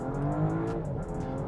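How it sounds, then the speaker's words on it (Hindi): A 2025 BMW X5 engine revs hard during a Sport Plus launch with the brake held, a loud sustained roar that stays near and steady throughout, with no talking. "you can hear the rev"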